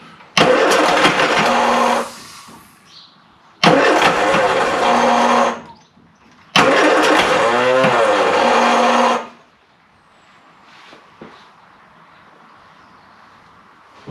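A classic Mini van's engine, back after 25 years off the road and running lean while its fuel mixture is adjusted, cranks and catches in three loud bursts of about two to three seconds each, with quiet pauses between and a faint idle-like hum afterward.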